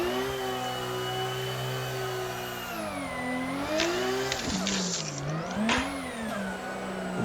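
A competition drift car engine in the Assetto Corsa racing game (VDC 5.0) holds a loud, steady high-revving whine, then swoops up and down in pitch as the throttle is worked through slides, with brief scraping bursts.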